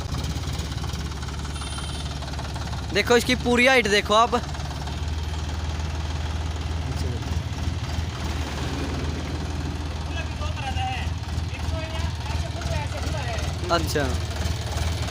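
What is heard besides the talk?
tractor engine running at slow revs with loader bucket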